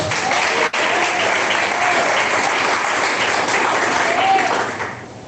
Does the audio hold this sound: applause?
yes